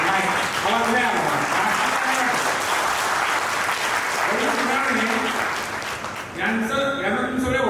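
An audience breaks into sustained applause for Ravi Sonawane at a lecture camp in Pune, a dense steady clapping that holds throughout. Speech runs underneath it.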